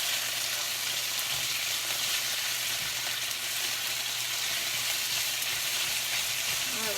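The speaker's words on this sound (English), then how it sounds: "I hope you can still hear me with all this sizzling and popping" Chicken sizzles and pops steadily in a hot stir-fry pan, a dense continuous hiss with occasional louder crackles, close and loud throughout.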